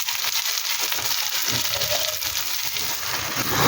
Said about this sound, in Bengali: পেঁয়াজগুলো এবার ভেজে নেবো